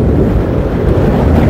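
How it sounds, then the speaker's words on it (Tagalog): Powerful sidewinds roar past during a road cycling race, a loud, steady low rumble of wind buffeting the microphone from a following vehicle, with no talking. "Grabe ang hangin."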